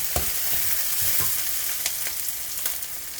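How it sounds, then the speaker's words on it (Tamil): Curry leaves and green chillies sauté with onions in a hot pan, a continuous close sizzle with occasional scraping stirs of a spoon breaking through. "நான் கருவேப்பிலையும் பச்சை மிளகாய் இதோட போடுறேன். அதையும் வதக்கிட்டு வதக்குங்க."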